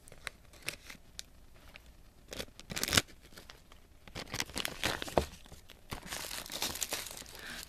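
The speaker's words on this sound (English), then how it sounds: "I gotta get the scissors for this." Scissors cut open blind bag packaging: soft crinkling and rustling of plastic broken by a few sharp snips and a louder tearing crunch, close and quiet, with no talking.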